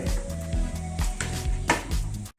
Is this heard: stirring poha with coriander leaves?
yes